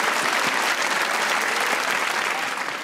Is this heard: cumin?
no